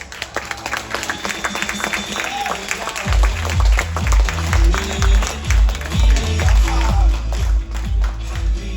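A conference audience at a Nu Skin India business update applauds as a speaker named Andrew walks on stage. Scattered clapping gives way after a few seconds to loud walk-on music with a heavy, pulsing bass beat as the clapping continues.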